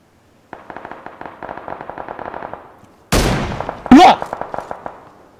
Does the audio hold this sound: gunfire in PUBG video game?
yes